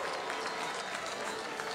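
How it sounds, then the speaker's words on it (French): A crowd applauds on the red carpet steps of the 2018 Cannes Film Festival as the cast of Le Grand Bal arrives, a dense steady wash of clapping and crowd noise throughout. "Et tout le monde qui applaudit cette performance"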